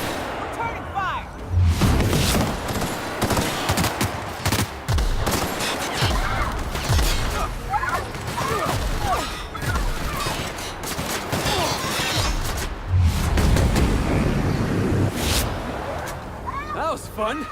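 Sustained sci-fi firefight in The Outer Worlds, with rapid bursts of gunfire and heavy booming impacts running throughout at close range, mixed with in-game voices and shouting.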